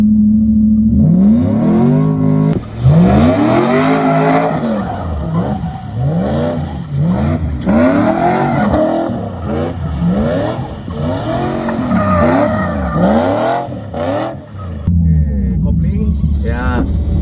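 A drift car driven hard on a track by a disabled driver revs in repeated surging bursts, engine pitch sweeping up and down with tires squealing, loud and close, with people talking at times.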